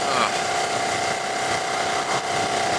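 A Ducati 848 Streetfighter motorcycle engine runs close and loud with a wind-buffeted, uneven drone, surging slightly as choppy throttle makes it lurch.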